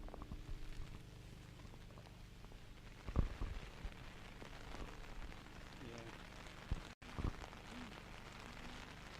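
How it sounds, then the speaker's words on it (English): Steady mixed rain patters on a surface at the Mull Rally, with scattered heavier drops and occasional faint knocks over the continuous hiss. "Very, very mixed rain here."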